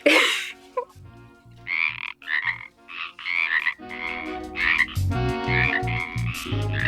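A chorus of frogs croaks in rapid overlapping bursts, one starting and others joining, loud and close with rhythmic pulsing calls and brief gaps between rounds.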